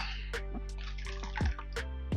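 Marinade for pollo asado pours into a Ziploc bag up close, a quiet, liquid gurgle and glugging with small splashes and drips that come in uneven bursts.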